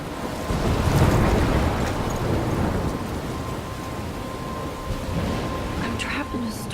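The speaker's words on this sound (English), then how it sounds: "I'm trapped in a storm?" Storm ambience in the Life Is Strange video game: a dense, steady roar of wind, rain and crashing waves with low rumbling, loud and continuous throughout.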